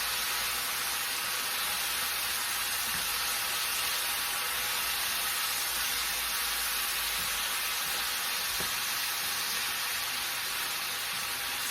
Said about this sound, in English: we're going to keep searing